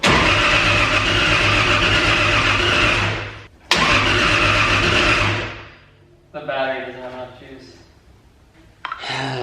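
A 1JZ-swapped Nissan 240SX cranks on a weak battery, a loud, sustained broadband engine churn running about six seconds with a brief break, then fading into quieter rattling and voices talking near the end.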